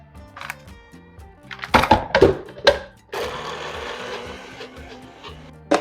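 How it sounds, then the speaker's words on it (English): NutriBullet blender whirring through a Snickers-flavored protein smoothie: a few clunks and thumps as it starts, then a steady loud motor whir with a grinding edge lasting a couple of seconds, nobody speaking. "and we are going to blend."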